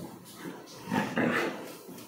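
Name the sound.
street dog whimpering and growling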